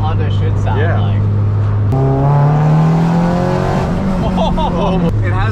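Honda Civic EG6 built engine revving hard into VTEC, a loud rising howl that climbs sharply in pitch over a few seconds, with people talking over it.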